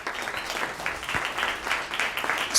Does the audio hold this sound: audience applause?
yes